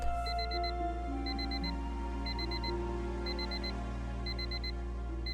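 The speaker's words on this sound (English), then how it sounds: "I wake up with my alarm" A video game alarm clock rings as the character wakes up, a steady electronic beeping in quick four-beep bursts repeating about once a second over a constant low hum and soft music.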